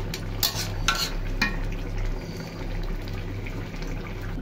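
Pieces of hilsa fish go into a simmering eggplant curry, with a few sharp spoon and pot knocks at the start, then a low bubbling simmer, close and alone.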